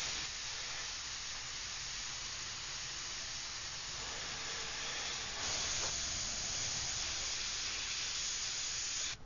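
Airbrush spray painting a background with controlled overspray on a Javier Soto cybergirl artwork: a steady, continuous hiss of compressed air and paint running close and unbroken throughout, with no talking.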